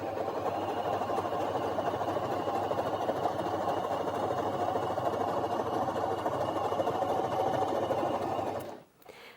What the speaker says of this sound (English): don't ever go too fast when sewing stretch stitches, especially the triple one